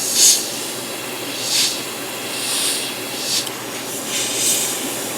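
An airbrush spraying paint on a Gundam model hisses steadily, with its clogging nozzle sputtering in several soft bursts over the constant airflow.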